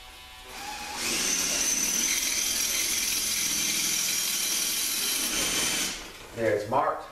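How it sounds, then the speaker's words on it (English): A Makita electric drill bores into a brick wall while outlets are being installed, one steady close grinding run lasting about five seconds before stopping, followed by brief handling knocks. "I can drill it the rest of the way"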